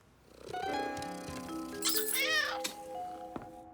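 Cat in the French version of the children's cartoon Caillou gives a low, purring rumble followed by a rising and falling meow, close and clear, with faint cartoon sound effects.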